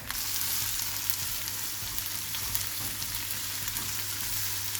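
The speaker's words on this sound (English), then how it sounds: "You want a pan that's not too large because you want these onions to sweat out." Chopped onions sweat in a modest-sized pan over medium heat, giving a steady, gentle sizzle that runs without a break and with no one speaking.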